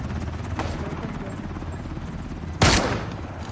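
A helicopter in the snowy-map shooter Ring of Elysium, a continuous rotor whir droning under the action with a single loud gunshot-like crack cutting through near the end.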